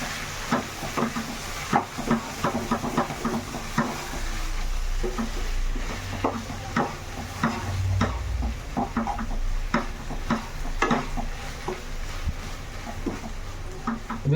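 Chopped tomatoes cooking in a pan for an Odisha-style poi rai (Malabar spinach) dish are stirred with a utensil, giving steady scraping strokes over a low, continuous sizzle, close and moderately loud with no voices.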